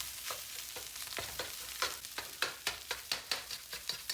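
Fried rice with spam, kimchi, onions, peas and egg being stirred in a hot pan, a soft sizzle broken by a quickening run of rhythmic scraping and chopping strokes from the spatula, close and unvoiced.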